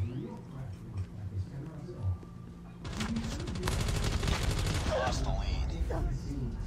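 Rapid automatic gunfire from a gun in the mobile shooter Call of Duty Mobile, a dense loud burst of rattling shots over game sounds, with a player talking alongside.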